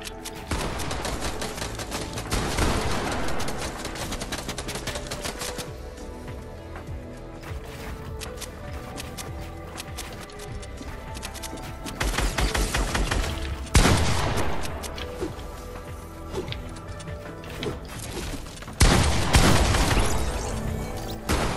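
Video game gunfire in a box fight: rapid automatic bursts and single cracks, loud and close, come in clusters separated by short lulls across the whole stretch.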